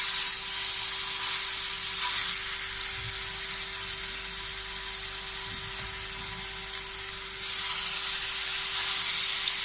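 Chicken pieces sizzle steadily in hot oil in a pan while shawarma is being made, a dense, close hiss that holds even throughout and swells a little louder near the end, with no talking.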